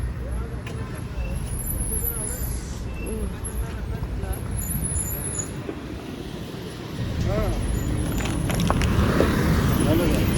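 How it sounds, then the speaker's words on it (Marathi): Slow traffic jam on the Amba ghat mountain road after a truck breakdown, a continuous roadway rumble of idling and passing vehicles with engine noise swelling toward the end, while people talk nearby. "ते ट्रक बंद पडल्यामुळे ट्रॅफिक झालंय."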